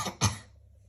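A single short cough of Pedro Pony from a Peppa Pig storybook reading, voiced by a reader imitating it: a quick pair of rough bursts, close and fairly loud, then silence.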